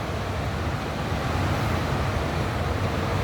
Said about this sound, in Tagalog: Lakas ng hangin. Umbayuhin ng hangin ang mga puno.